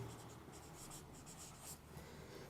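A pen writes an entry by hand in a cash book, a faint close scratching and scribbling in short continuous strokes with no talk.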